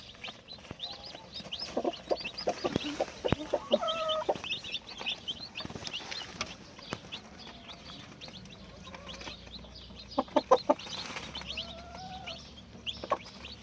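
Small chicks peep in scattered, high chirps, with occasional soft clucking and brief louder bursts of cheeping close by.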